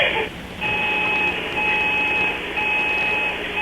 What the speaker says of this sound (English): It's the fry buzzer.